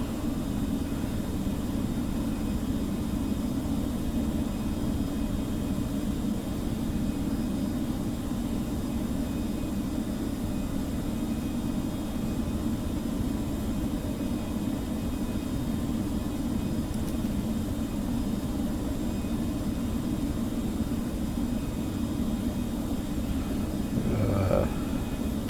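Airliner jet engines running at climb thrust just after takeoff on a flight from Manchester to Keflavik, a steady broad roar that holds level throughout with no talking.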